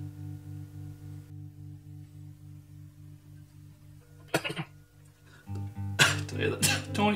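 A single sharp sneeze bursts out near the end, following a short cough-like sound, over a steady low electrical hum in a quiet room.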